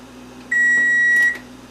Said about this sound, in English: Okay, timer went off.